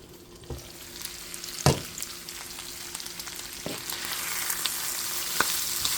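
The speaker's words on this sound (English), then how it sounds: "Oh, I can hear it frying." Steady crackling sizzle of pork adobo with green onions frying in a pan, close up, with a few sharp clicks of stirring scattered through.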